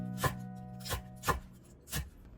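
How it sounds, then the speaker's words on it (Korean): A knife chops through scallions on a board in four crisp, evenly spaced strokes, close and fairly quiet with no talk. "쪽파를 조금 썰어서 넣어주겠습니다."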